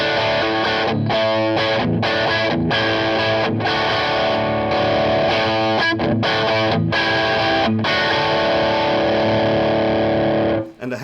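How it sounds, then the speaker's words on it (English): An electric guitar played through a Tube Screamer overdrive pedal produces a loud, driven tone with a strong mid bump. Strummed chords ring in bursts, cut by short pauses, and end in a sustained chord that stops abruptly. "the tube screamer has the mid bump"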